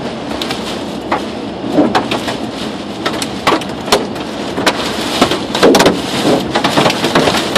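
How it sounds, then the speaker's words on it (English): Dense drumming of hail from a tornadic supercell on a car roof in Uvalde, Texas, with sharp irregular cracks of larger stones punching through a steady roar of rain. "Oh, here comes the hail."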